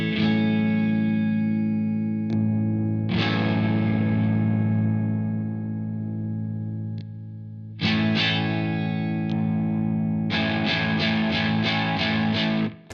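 An electric guitar played through an amp with stacked analog effect pedals, sustained distorted chords ringing out and decaying, then a burst of quick rhythmic strums near the end, loud and close with no talking.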